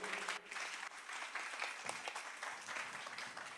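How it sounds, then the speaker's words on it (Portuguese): Applause at a communion church service, a steady dense wash of many hands clapping throughout, fairly even in loudness with no voices standing out. "Dê um aplauso à vida do Eris"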